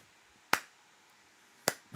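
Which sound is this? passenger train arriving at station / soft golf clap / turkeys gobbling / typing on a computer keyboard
soft golf clap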